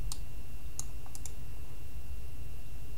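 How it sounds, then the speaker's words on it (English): Sparse, sharp clicks of a computer mouse being right-clicked while working in MS Word, about a handful of crisp taps spread over a few seconds against a quiet background. "all I'm doing is right clicking"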